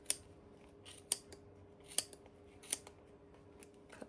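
Tiny sharp scissors snip through yarn while shaping a pom pom, giving a series of crisp, close snips spaced irregularly over a quiet background.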